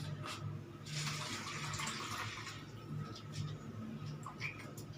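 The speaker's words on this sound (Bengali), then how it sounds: "ওটা ছেঁকে দিচ্ছি জলটাকে" Water strained through a sieve, a soft, continuous splashing trickle close by, heard faintly against a quiet room.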